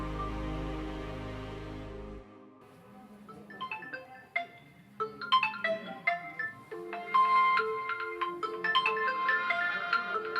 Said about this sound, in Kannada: ಫೋನ್ ರಿಂಗ್ ಆಗಕತ್ತೈತ್ ನೋಡ್ ನಿಮ್ಮ ಅಣ್ಣಂದು